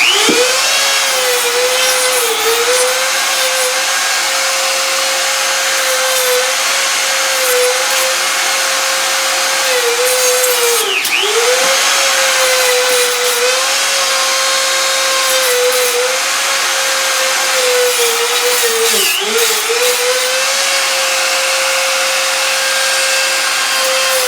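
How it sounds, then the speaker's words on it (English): A power tool grinds and cuts inside a drain pipe, a loud, continuous motor whine that holds a steady pitch and dips briefly now and then as the tool bites under load, with no talking. "So I should be able to cut that down, cut some of this out of here."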